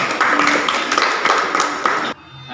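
A classroom of students applauding together, a dense wash of clapping that holds steady for about two seconds and then stops abruptly.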